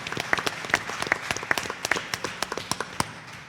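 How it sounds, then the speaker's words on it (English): Scattered applause at a school board meeting, a small group of people clapping with distinct individual claps, sparse and somewhat distant, tapering over a few seconds. "yes, please clap."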